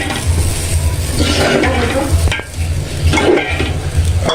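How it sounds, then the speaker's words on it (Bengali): Rice and green peas fry in a pan, sizzling under a spoon or spatula that scrapes and stirs in repeated strokes, with a brief lull midway before the stirring picks up again. "মটরশুঁটি অ্যাড করলাম মটরশুঁটি দিয়ে আবার একটু ভাজতে হবে কষাতে হবে"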